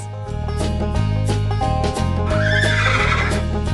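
Horse neighing in a children's farm animals stacking game, a loud, clear whinny over continuous upbeat game music, rising and falling for several seconds.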